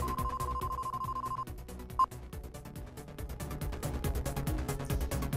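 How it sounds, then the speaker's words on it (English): A video game phone call to Big B: a steady electronic ring tone sounds for over a second, a short beep follows, then a rhythmic music-like backing continues without talk. "I picked up the phone and called Big B."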